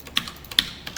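Number keys and Enter are tapped on a computer keyboard, giving a few crisp, close clicks at uneven intervals, two of them louder, with no talk.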